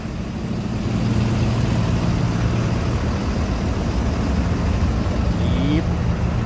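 A truck engine runs steadily on a test drive after an axle replacement for destroyed pinion bearings, producing a continuous low, rumbling drone at an even level throughout.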